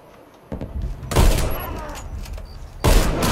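Gunfire in the multiplayer shooter Warface during a 3v3 clan match on the Overpass map, with broadband bursts near 1 second and again near 2.8 seconds over a busy background of game sounds and faint talk.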